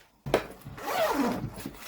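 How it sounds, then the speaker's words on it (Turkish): A zipper is pulled open on a fabric storage bag with a mesh compartment, making a short, close rasping slide followed by light rustling. "Şurada bir fermuarı var."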